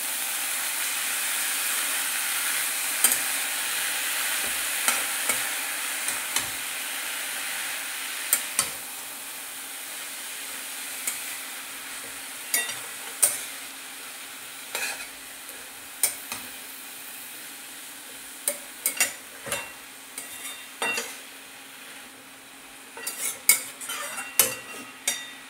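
Mixed vegetables for Bengali bagan chorchori are sautéed in a pan, with a soft background sizzle and frequent clinks and scrapes of a spoon against metal, growing busier toward the end.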